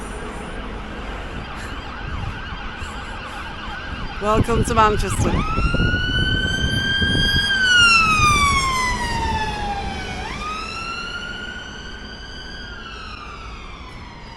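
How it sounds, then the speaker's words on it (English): An ambulance siren wails in a Manchester street, rising into a loud, sweeping two-tone whoop as it passes close by and then fading, with traffic noise beneath and a voice speaking briefly near the start. "and another ambulance."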